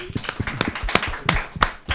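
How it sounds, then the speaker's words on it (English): A small audience claps for Ruben after a Foundry Sessions talk on Modo in advertising and marketing, with close, uneven hand claps that come in irregular bursts and swell again near the end. "a round of applause for Ruben"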